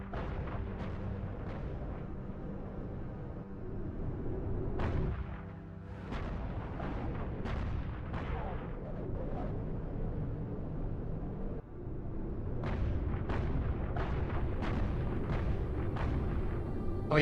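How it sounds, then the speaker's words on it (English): Supercarrier turrets in Halo Reach fire in bursts, giving dense, booming, artillery-like blasts that roll on continuously under repeated sharp onsets, loud and unbroken with no voices. "there's 12 turrets and currently the weapon fires 6 shots per burst"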